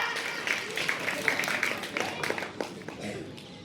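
Children in a school classroom clap together in a loose, uneven burst of applause lasting several seconds, with voices and chatter mixed in throughout.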